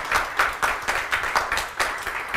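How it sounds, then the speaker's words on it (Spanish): Audience clapping in a steady, dense burst of applause, moderately loud with rhythmic peaks throughout, no voices over it. "Un gran aplauso."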